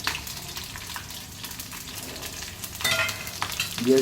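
Chopped green chillies sizzle in hot oil tempered with mustard seeds, a steady, even frying hiss with a few brighter crackles and spatters near the end.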